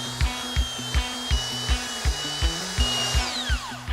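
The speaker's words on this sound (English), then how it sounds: "Now I'm going to be using an 80 grit sandpaper on my belt sander" A belt sander fitted with 80 grit sandpaper works across an old hardwood timber deck, a steady abrasive whir broken by regular rhythmic thumps roughly every third of a second, close and loud throughout.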